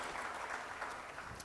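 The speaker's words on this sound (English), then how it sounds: "please have an applause for all of us for being here today" Brief, faint audience applause in a conference hall at an economics dialogue on trade and supply chains, a soft continuous patter of clapping.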